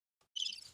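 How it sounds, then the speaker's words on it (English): A cricket chirping sound effect plays as a short, faint burst of high, buzzing trill lasting under half a second, isolated with no talk. "Let's give them their crickets for that."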